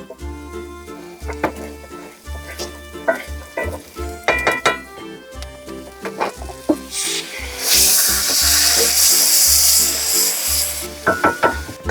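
Chopped onion frying in extra virgin olive oil, starting with wooden scraping and knocking against the pan, then rising into a loud, sustained sizzle near the end, with some faint talk.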